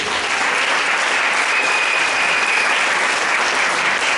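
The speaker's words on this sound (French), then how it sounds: "Si tu es d'accord avec moi, acclame Jésus" A church congregation at a Sunday service applauds steadily and loudly as they acclaim Jesus, with dense continuous clapping filling the room throughout and no speech over it.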